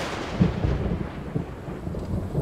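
A thunderstorm with rain in an animated cartoon: a deep, rolling thunder rumble with a few heavier cracks over a constant wash of rainfall, all within a couple of seconds and with no voices.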